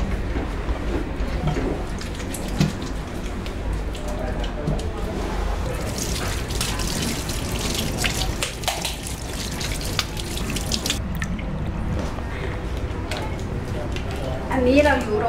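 Tap water runs steadily into a sink during handwashing with plenty of soap, a continuous splashing wash that carries through the whole stretch while someone talks over it.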